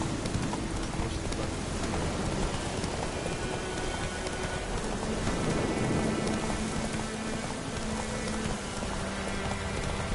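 Steady rainfall in The Witcher video game, a dense, continuous hiss of drops pouring down without pause, loud and enveloping throughout.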